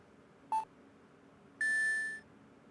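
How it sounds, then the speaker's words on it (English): Electronic game beeps ring out in two short, clean tones, one brief and one held longer, each a simple pure pitch over a quiet background hum. "4 beeps."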